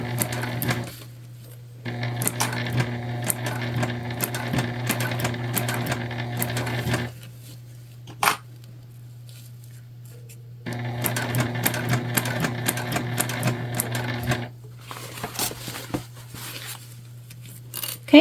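A sewing machine stitches the seam of a fabric book sleeve in two long steady runs of rapid, even clatter over a constant motor hum, with short pauses between and light handling clicks.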